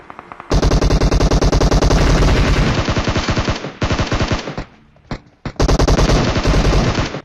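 Loud, rapid automatic gunfire from the battle royale game PUBG comes in long sustained bursts with a few short pauses and single shots between them.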